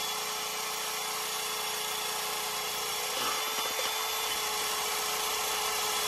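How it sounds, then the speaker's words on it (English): Continuous abrasive grinding and hissing of sanding on a black steel pipe, steady and close, with a brief shift in texture midway. "Now you're sanding it down."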